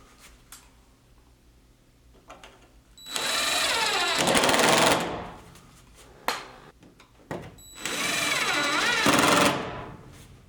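Power drill driving drywall screws in a basement under finishing, two loud, close bursts of whirring and ratcheting, each lasting about two seconds, with small knocks and handling noises between them.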